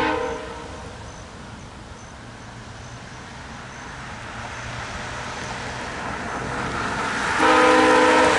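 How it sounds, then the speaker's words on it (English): A VIA Rail passenger train sounds its horn, a long sustained blast that swells louder near the end over rumbling rail noise, with no talking. "That horn is loud and clear because I also heard it at an east of town from here."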